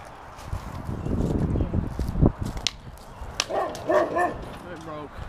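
A dog gives a few close yipping barks and whimpers amid people talking outdoors, with the sharper barks clustered near the end.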